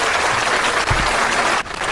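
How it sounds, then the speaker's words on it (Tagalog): Audience applause at a church youth gathering: dense, steady clapping from a sizeable crowd fills the whole stretch, dipping briefly near the end. "Kaya naman, deserve talaga ninda ning palakpak ko dyan na pagkahapon."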